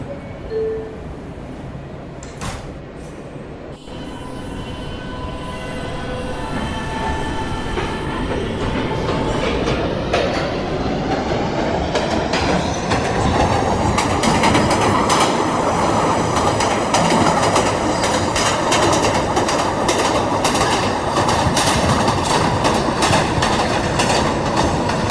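A New York subway E train shuts its doors with a short thud and chime, then pulls away. The roar and clatter of its wheels build steadily into a loud, sustained rumble with a high squeal running above it.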